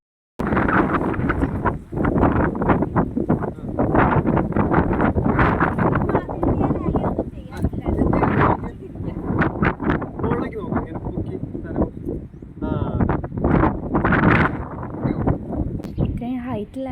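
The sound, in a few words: strong wind at a hilltop viewpoint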